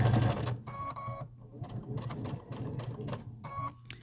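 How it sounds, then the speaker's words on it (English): Sewing machine stitching a mitered quilt border, running in short bursts of rapid needle chatter with brief pauses between, close and moderately loud with a steady low motor hum. "And you want to stop stitching right on that line."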